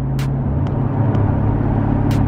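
A deep, throaty V8 engine in a Dodge Challenger Scat Pack 392 with DynoMax Race Bullet exhaust idles and rumbles loudly and steadily, with a low exhaust burble throughout and brief bursts of hiss over the top.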